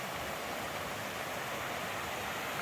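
Deer Creek, a stream beside the North Umpqua Trail, rushes with a faint, even hiss of flowing water and no break.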